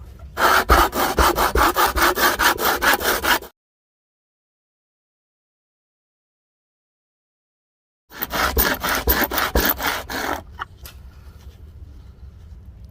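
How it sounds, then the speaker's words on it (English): An upside-down can lid rubbed hard back and forth against a rough surface, a loud close rasping scrape in fast regular strokes, stopping for a few seconds of silence, then resuming and tapering off. "the top of it I'm going to flip upside down, and all I'm going to do is just rub it back and forth as hard as I can"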